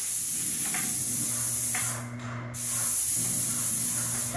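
Airless paint sprayer spraying furniture trim, a steady loud hiss running nearly throughout with a brief pause midway before the spray resumes.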